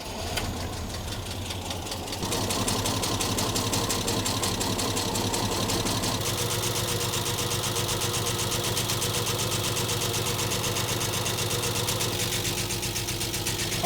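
A Nissan Patrol engine idles roughly, a steady, uneven mechanical knocking and chugging that runs close and loud throughout. It settles into a slightly fuller rumble after the first couple of seconds. No one speaks.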